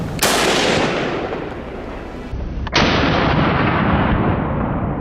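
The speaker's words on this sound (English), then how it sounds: "From my angle, the first shot hit right in its side." Two loud gunshots fired at a wild boar in brush, a sharp blast at the start and a second about two and a half seconds later, each trailing into a long rolling echo with no talk.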